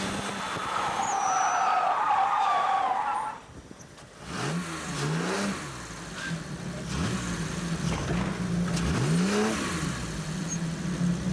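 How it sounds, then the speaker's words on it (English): Jaguar rally car spinning and skidding during a rally test, with a long tyre screech followed by rising and falling engine revs as it nearly slides into a wall, loud and close. "this spin nearly put him into the wall and out of the event"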